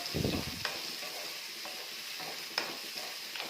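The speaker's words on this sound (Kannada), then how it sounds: "ಇದನ್ನೆಲ್ಲ ನೀಟಾಗಿ ಎಣ್ಣೆಯಲ್ಲಿ ಫ್ರೈ ಮಾಡಬೇಕು" Onions frying in oil for a drumstick leaf stir-fry make a soft, steady sizzle close by, with a few light spoon taps and stirring scrapes and no talking.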